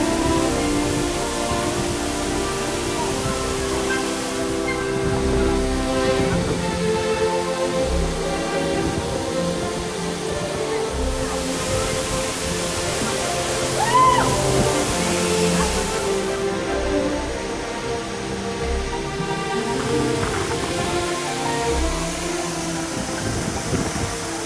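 Looking Glass Falls in Pisgah National Forest pours in a steady, broad rushing roar that does not let up, heard from a short distance with no voices.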